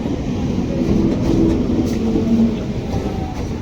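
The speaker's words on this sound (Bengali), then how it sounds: "ট্রেন এসে গেছে" A crowded train arriving at a station: a heavy, continuous rumble with a low mechanical drone, steady and fairly loud throughout, no voices.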